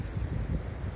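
Gusty wind blows around a wayside shrine, a soft broadband rush with low buffeting on the microphone, steady and fairly quiet across one second.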